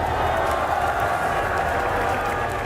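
A crowd at a Valorant esports grand-finals watch party between NRG and 100 Thieves roars and applauds steadily, a dense wall of cheering and clapping that holds at full volume throughout.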